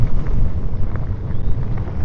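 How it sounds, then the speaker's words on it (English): Strong, steady wind buffets an outdoor microphone for a couple of seconds, a loud low roar with gusty swells and no speech. "I didn't realise it was this windy out here."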